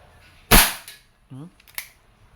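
A Crosman SNR 357 dual-ammo airgun fires one sharp, loud, close crack that trails off briefly, followed by a short spoken word and a fainter click.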